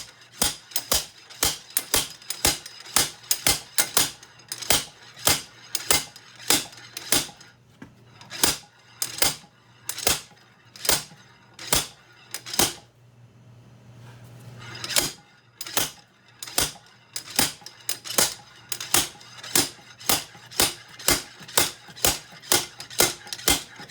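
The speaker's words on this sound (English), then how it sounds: "got a bearing puller with a slide hammer on it" A slide hammer bearing puller strikes again and again while pulling rusted axle bearings from a 2001 Honda 250EX ATV, sharp metallic clanks in irregular bursts with short pauses, loud and close.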